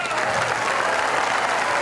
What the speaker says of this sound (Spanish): Un aplauso a estas dos mujeres.